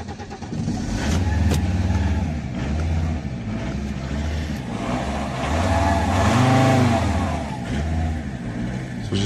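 A diesel car engine with a faulty injection pump and injectors revs repeatedly, rising and falling in waves of throttle, loud and close, with a rough idle between pushes.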